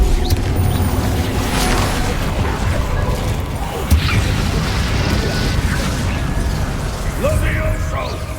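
Fire spell Incendio cast in the video game Hogwarts Legacy amid a busy spell battle, with bursts and whooshing blasts over a constant dense layer of combat noise, including a sharp pop near the four-second mark.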